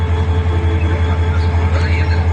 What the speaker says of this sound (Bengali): ট্রেনের চাকা জাম হয়ে গেছে